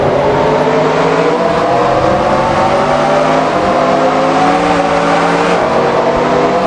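Several stock cars roar together at the green flag on the short Bristol oval in NR2003, engines droning loud and steady with layered harmonic whine as they accelerate, continuous throughout with no talk.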